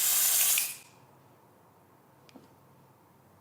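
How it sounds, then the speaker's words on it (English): A spray foundation makeup product hisses out in a steady, close burst for under a second, then cuts off, leaving quiet room tone with a couple of faint clicks. "I did not like the idea of a spray foundation one little bit."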